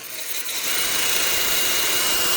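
Continuous whine and scratchy grit of a cordless drill sanding a meteorite, close and steady, rising slightly in strength after the first half second and sustained to the end.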